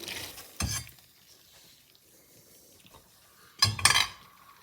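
Pasta is stirred into a pot of melted cheese sauce for macaroni and cheese, two short bursts of clattering spoon-against-pot scraping and clinking separated by a quiet gap.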